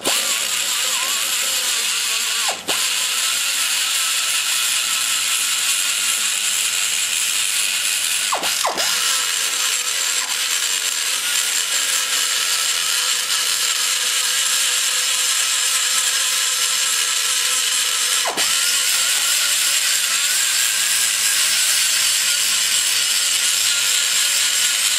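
A sharpening stone grinds inside the combustion chamber of a BBC Assault 345cc stage IV motorcycle engine. It makes a continuous high, hissing grind with a few brief dips where the stone is lifted, and no talking.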